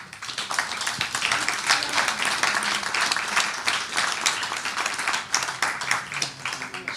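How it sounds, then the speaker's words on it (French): A room full of people applauds at a gathering on gender equality, sustained dense clapping with scattered sharper individual claps rising above the wash for several seconds. "on peut applaudir même s'ils ne sont pas là, Khalifa et Sefatoula"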